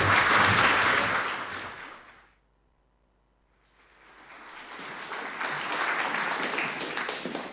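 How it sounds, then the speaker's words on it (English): Audience applause at a tourism industry event swells loudly, fades to near silence for a moment, then builds again into steady sustained clapping. "I just want to give everybody involved a big round of applause"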